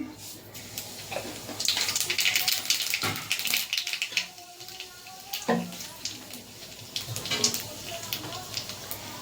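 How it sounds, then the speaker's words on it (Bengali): Dry red chilli and nigella seeds dropped into hot oil, giving a steady close crackling sizzle with sputtering pops that runs throughout while someone talks over it. "তেল গরম হয়ে গেছে, তেলে দিয়ে দেবো একটা শুকনো লঙ্কা, মাঝখানে আমি ফাটিয়ে নিয়েছি। দিয়ে দেবো কালো জিরে ফোড়ন।"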